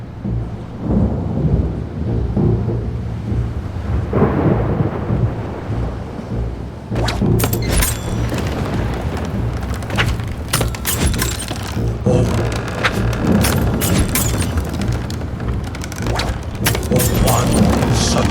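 A thunderstorm at sea in the video game Another Fisherman's Tale, with a dense, loud roar of wind and rain, rumbling thunder, and sharp crackling bursts after a few seconds, plus faint voices.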